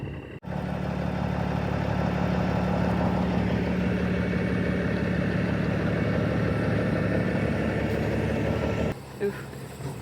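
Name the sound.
tow truck engine idling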